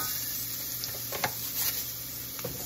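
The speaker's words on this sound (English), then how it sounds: "We are going to add the garlic to the pan, stir it around in our bacon fat." Garlic sizzles in bacon fat in a pan, a soft steady frying hiss broken by a few light scrapes and taps of stirring, close and fairly quiet with no talking.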